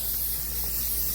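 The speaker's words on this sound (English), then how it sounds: "put a little brake cleaner on a microfiber cloth and then wipe around the edges" Brake cleaner sprayed from an aerosol can onto a microfiber cloth while fitting a K&N filter: one steady, close hissing spray held for over a second, alone.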